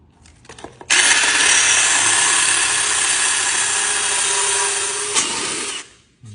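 A cordless angle grinder cuts a hole in ceramic tile with a loud, close, continuous high whine lasting several seconds, then winds down. Nobody speaks over it.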